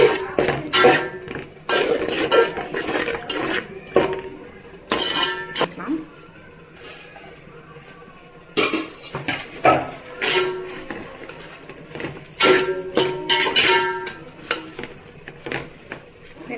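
Mutton with ginger-garlic paste for biryani is stirred nonstop in a metal pot, the ladle clanking and scraping in irregular bursts with quieter pauses, while a voice speaks between the clatter.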